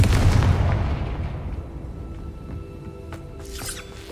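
A booming Confringo spell blast in Hogwarts Legacy erupts loudly at once, then rolls off into a fading rumble with faint clinks and a brief crackle near the end.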